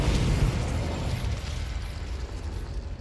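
A Confringo blasting spell goes off in the Hogwarts Legacy video game, a loud, rumbling explosion with heavy low-end boom that sustains and slowly decays across the whole stretch.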